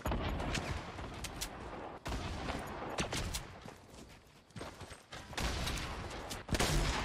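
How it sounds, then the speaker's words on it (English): Rapid bursts of explosive weapon fire and blasts in a Fortnite Battle Royale duo squads match, dense and loud throughout with repeated sharp impacts and brief dips between volleys. "These guys are grenade launching me."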